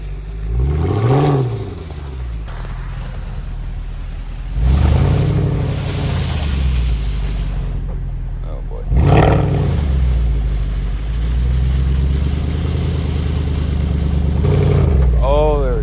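A Mercedes C63 AMG stuck in snow revs its engine in several loud, rising and falling bursts, each roaring up and then dropping back to a rumbling idle.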